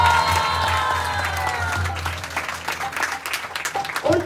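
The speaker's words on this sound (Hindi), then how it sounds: "तो कैसे उनके लिए जोरदार तालियां" Audience applause and some cheering at a devotional talk, with a tonal music-like drone early on, the clapping continuing in uneven bursts under a faint voice toward the end.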